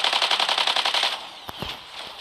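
Rapid machine gun fire from the mech combat game Mech Arena rattles loudly in a steady burst for about a second, then stops, followed by a few scattered sharp cracks and clinks.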